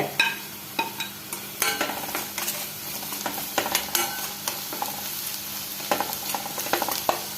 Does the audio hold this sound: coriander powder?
yes